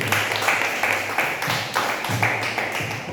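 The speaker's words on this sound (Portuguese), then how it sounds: "Que as palmas louvem ao Senhor" A church congregation claps along in praise, with steady rhythmic hand claps repeating through the moment and a low musical tone sounding beneath, no talk over them.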